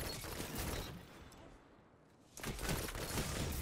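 The Claws of the Wolf pulse rifle in a shooter game fires in rapid bursts, fading briefly before another loud volley, with a player talking over it.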